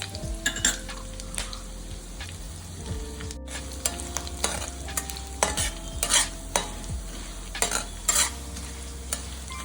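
Chana dal, urad dal and curry leaves fry in a pan, with a steady sizzle under repeated scraping and clinking of a spoon against the metal pan, close and fairly loud, no voices.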